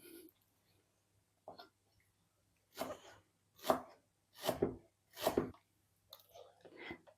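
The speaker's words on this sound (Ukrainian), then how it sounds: "Також дуже дрібненько нарізаю." A knife taps rapidly against a cutting board in a series of quick, close chopping strokes, with brief pauses between bursts.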